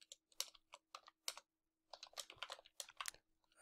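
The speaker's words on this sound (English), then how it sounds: "let's type in here" Quick, close bursts of typing on a computer keyboard, a short run of keystrokes, a brief pause, then a denser flurry of clattering keys.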